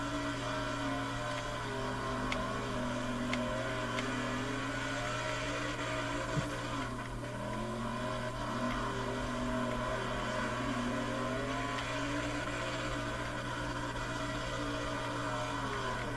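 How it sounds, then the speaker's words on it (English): Sprint car engine in the World of Outlaws video game held against the rev limiter, a continuous buzzing drone that wavers slightly in pitch, steady and fairly loud throughout, with no voices. "hitting the limiter all the way through the corner is kind of crazy"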